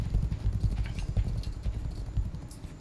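Horse hooves clip-clop in the video game Legends of Aria, a quick, close, uneven rhythm of many hoof strikes that continues steadily, without any voices.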